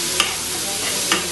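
Short burst of frying and stirring as soy sauce is mixed into vegetable momo filling in a hot pan, a steady sizzle with two brief scraping strokes of the spoon.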